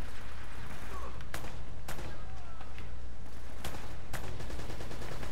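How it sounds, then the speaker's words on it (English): Gunfire in the video game Uncharted: Drake's Fortune, sharp gunshots cracking at irregular intervals over a steady background of battle noise, some close and loud, others more distant. "Who are they shooting at?"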